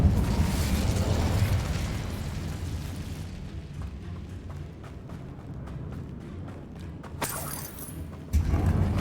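A fire spell cast in Hogwarts Legacy erupts with a loud whooshing, rumbling burst that fades into crackling flame texture, followed by a sharp flare near the end.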